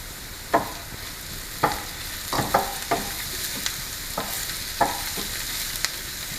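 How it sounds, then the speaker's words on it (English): Onions, finely chopped ginger and garlic cook in a pan for tarka dal: a steady sizzle broken by irregular scrapes of a spoon stirring, close and fairly loud. "So in goes a bit of ginger and about 2 cloves of garlic, finely chopped."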